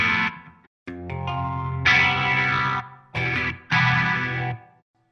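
A BC Rich Bich Perfect Ten electric guitar with its pickups wired in series plays loud, distorted chords with a chorus-like shimmer, in several sustained bursts separated by brief silences, with no talking.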